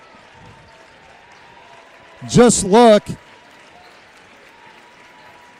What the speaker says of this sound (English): the crowd is got a nice round of applause right now